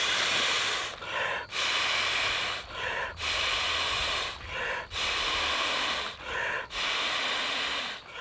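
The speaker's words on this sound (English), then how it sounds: "To inflate this pad via breaths, it takes roughly 20 breaths to do so" Long, forceful breaths are blown one after another into a Therm-a-Rest XTherm sleeping pad, each loud rushing exhale broken by a short gap for inhaling, heard close up in a steady repeating rhythm.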